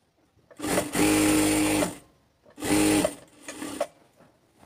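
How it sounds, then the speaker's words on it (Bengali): A sewing machine stitches palazzo fabric in two loud, close bursts of steady whirring, each lasting about a second, separated by a short pause with light handling clicks. "1/2 ইঞ্চি পরিমাণ দূর দিয়ে সেলাই দিয়ে নেবেন।"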